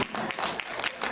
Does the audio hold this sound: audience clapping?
yes